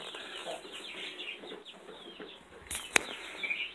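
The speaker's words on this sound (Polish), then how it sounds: "Jeszcze pokażę wam te starsze kury." Older hens clucking close by in a coop, with repeated soft clucks and murmurs, a sharp louder squawk or flap near the end, and quieter clucking after.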